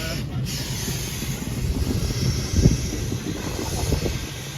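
A moving train rumbles steadily from inside the carriage, with low wheel noise, rattles and wind hiss under occasional nearby voices.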